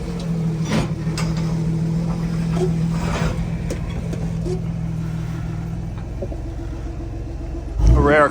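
A Toyota crawls over rock on the Moab Rim trail, its engine a low, steady rumble, before a sudden loud scraping burst as the rear bumper drags at the end.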